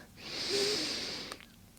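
One slow, deep breath in through the nose during a gentle morning yoga session, a soft airy rush that swells and fades over about a second and a half, close and quiet, with no talking.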